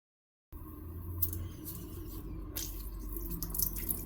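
Heating oil spraying and hissing from a home heating oil filter valve opened under pressure, a steady wet spray with splashy bursts after a brief silence.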